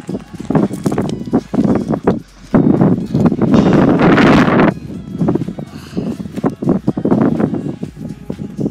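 On a hike up Mt. Cardigan, wind buffets the microphone in loud, boomy bursts, with rustling and footsteps in between.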